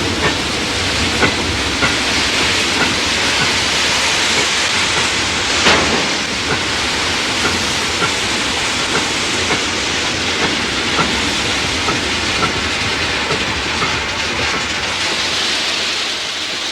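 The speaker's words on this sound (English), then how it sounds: "It is followed by the ballast shifter, a track equalizer which spreads the grit out evenly." A ballast shifter, a track equalizer spreading grit evenly over a new railway bed in the Netherlands, gives a steady loud mechanical rumble and hiss with scattered clicks, continuous throughout.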